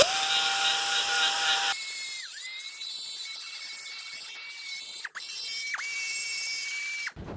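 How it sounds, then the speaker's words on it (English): A high-speed power grinder works the back side of a fiberglass part at a fastener spot, a loud, close, whining tone that holds steady, dips briefly under load several times, then cuts off at the end. "we want to make sure we grind that good"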